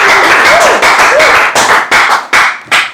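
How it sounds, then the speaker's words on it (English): A game show studio audience breaks into loud, close applause in several distinct bursts, each swell of clapping cut off by short gaps. "Round of applause for them, please."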